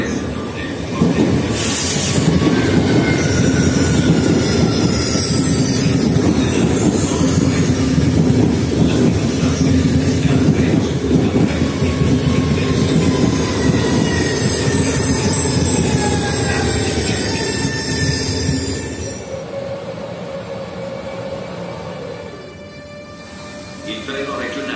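A train rolls into platform 6 at Venezia Mestre station with loud, sustained rumbling and high wheel squeal, fading slightly near the end, while a station announcement and voices carry over it.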